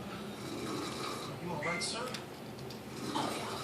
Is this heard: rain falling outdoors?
no